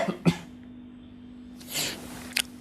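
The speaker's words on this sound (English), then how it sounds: "Sorry, I'm gonna cough." A single sharp cough near the start, followed by quiet breathing and a breathy exhale, with a faint click at the end.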